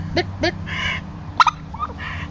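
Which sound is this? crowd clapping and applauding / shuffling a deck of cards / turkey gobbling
turkey gobbling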